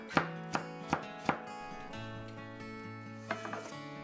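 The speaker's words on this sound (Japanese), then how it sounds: "ずらして重ねたら3から5ミリ幅に細切りにします。" A knife on a cutting board slices peeled carrot into 3 to 5 mm strips, four crisp evenly spaced chops followed by a pause and then a few quicker cuts, close and fairly quiet.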